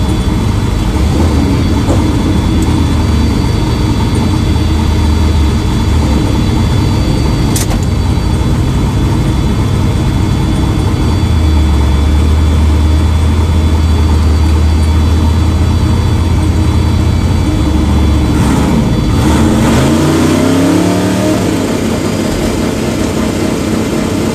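A street race car at a legal street race in Carmi, Illinois, revs its engine past 8,200 RPM, a loud, sustained roar held near the limit for over twenty seconds before a drop and rising change in pitch near the end.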